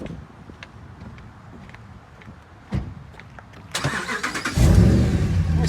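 A lifted 2009 Dodge Ram 1500 Laramie 4x4 on 35-inch mud-terrain tires drives nearby, a low steady engine rumble that grows louder and rougher near the end, with a brief thump partway through.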